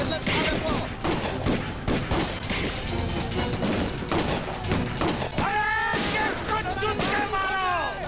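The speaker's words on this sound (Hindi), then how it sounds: "गोली चला दे रहा हूँ।" Dense bursts of gunfire in a 2003 Hindi action film: rapid cracks and crashes over a loud, busy mix, with shouting voices and music running throughout.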